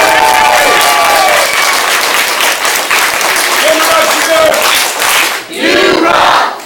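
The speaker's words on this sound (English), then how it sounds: "So let's give Noriel a big round of applause." Applause at a martial arts school belt ceremony, a loud roomful of clapping with shouts and cheers mixed in, voices calling out over it for several seconds before it briefly dips and swells again.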